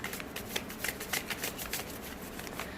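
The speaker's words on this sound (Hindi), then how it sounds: "तो पहले इन कार्ड्स को हटा लेते हैं" Tarot cards being shuffled and handled up close, a run of quick riffling flutters and soft slaps in an irregular rhythm, quiet and with no talking.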